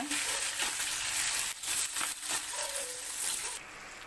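Tomatoes sautéing in a pan for ginger chutney, a close frying sizzle broken by several scraping, clattering stir strokes, settling quieter toward the end.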